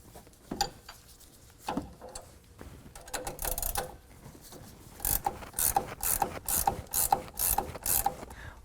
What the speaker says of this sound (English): use a 19 millimeter to get this nut